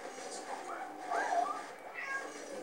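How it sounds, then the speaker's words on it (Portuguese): A pet cat meows in a few short, faint mewls mixed with game sound and a voice talking. "Até a minha gata chorou aqui."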